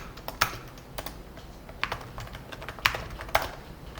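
Irregular keystrokes on a computer keyboard while code is typed, a handful of sharp close clicks spaced unevenly over a quiet room background.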